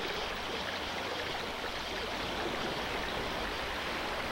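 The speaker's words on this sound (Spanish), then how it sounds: "Lo que vemos y escuchamos es el paso de aguas servidas de los alcantarillados al mar." Sewage water gushing from drain pipes into the sea at Iquique beach, a steady, dense rushing flow with no pauses, close and fairly loud, heard alone without voices.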